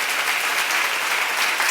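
A church seminar congregation applauds, dense continuous clapping from many hands filling the room, loud and steady without talk.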